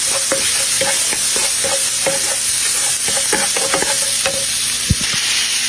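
Garlic fries in a pan with a steady, close hiss while a utensil stirs and taps repeatedly, giving light rhythmic scrapes and clicks over the sizzle, with no speech.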